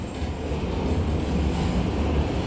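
An NYC Subway R142A 4 train in the OpenBVE simulator rolls out of Grand Central with a steady, building low rumble of motor and wheels on track, no voices.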